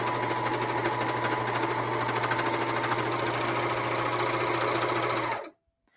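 A serger sewing machine runs steadily as it flatlock-serges fabric with its cutting blade engaged, giving a loud, close, continuous mechanical whir and rattle for about five seconds before it stops abruptly.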